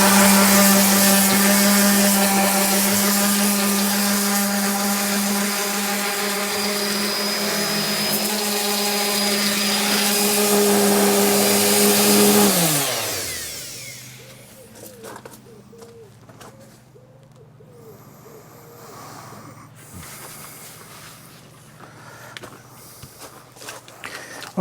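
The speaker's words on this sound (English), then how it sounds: "that's just a really rough sanding of the Outdrives" A power sander roughly works over boat outdrives in a boatyard, a loud, steady whining grind that runs for about thirteen seconds, then cuts off and leaves quieter ambient noise with a few light knocks.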